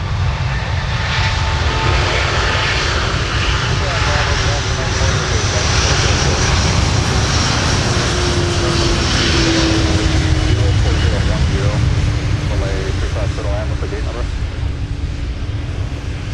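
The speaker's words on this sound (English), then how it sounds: "Delta 298 now departing with the 330-900." A Delta Airbus A330-900 departs at Minneapolis–Saint Paul airport, a steady broad jet engine roar sustained throughout at moderate distance with a faint rising tone in the mix.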